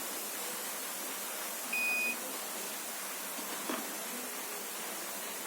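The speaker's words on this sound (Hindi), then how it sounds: "ये देखिए कंटिन्यू बजर बज रहा है" A multimeter's continuity buzzer gives a steady electronic beep lasting about half a second while a capacitor on an Acer 18.5-inch LED monitor power board is probed, set against a constant hiss.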